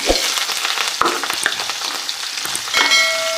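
Onion and green chilli pieces dropping into hot oil already holding fried seasoning spices, making a close, steady sizzle with a few sharp crackles and stirring clinks for a tomato curry.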